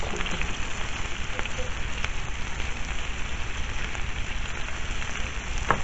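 Onion and peppers fry in a paella pan with a steady, dense sizzle and crackle that stays loud and close throughout, with no voices over it.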